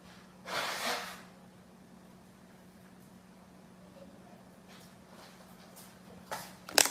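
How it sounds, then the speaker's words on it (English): Someone blows their nose in a few short, breathy bursts, a strong honk near the start and quicker snorts at the end, heard close and fairly quiet against a faint background hum. "let me blow my nose"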